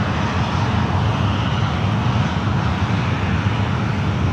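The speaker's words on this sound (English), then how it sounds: "it looks like the flight to San Diego is now on the runway" An airliner roars on the runway at San Francisco airport during takeoff. The jet engine noise is loud, steady and broadband, a sustained rumble and hiss with no voices over it.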